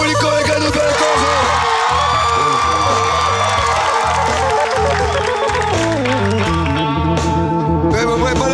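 An audience at a television show cheers, whoops and applauds loudly and without a break, the crowd noise dense and steady throughout.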